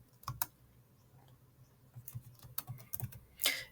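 Keys clatter on a computer keyboard in a short burst of close, crisp clicks, uneven in rhythm with small pauses, ending in a brighter final tap, with no voices.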